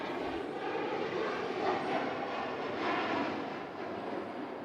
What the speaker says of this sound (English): you need to add a jet sound in there for those who got the private jets